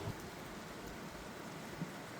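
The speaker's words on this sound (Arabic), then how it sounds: "بدات كطيح الشتا" Outdoor rain in mid-August falls in a soft, even hiss, steady and faint, with a couple of louder drips standing out against the wash.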